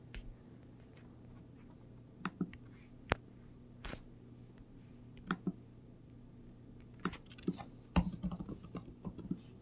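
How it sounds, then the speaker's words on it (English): Keys tapped on a computer keyboard while entering a Bible verse reference, sparse clicks in short uneven bursts over a low steady hum, fairly faint, with no talking. "Type it in Leviticus 91. 17 18."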